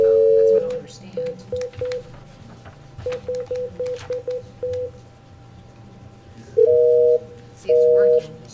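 Telephone keypad tones beep in short bursts during a commission meeting, first a sequence of single brief tones, then a second run, followed by two longer, louder dual tones near the end, with faint room voices underneath.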